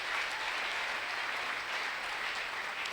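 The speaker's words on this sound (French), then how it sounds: "Acclame le Seigneur" A church congregation claps and cheers steadily in praise of the Lord during a worship service, a dense continuous wash of hand claps filling the hall at strong, even loudness.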